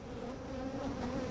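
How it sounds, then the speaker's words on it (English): A honeybee drone buzzes loudly and steadily right beside the microphone at a beehive, a continuous close insect drone with no talking. "You're a really loud drone at that."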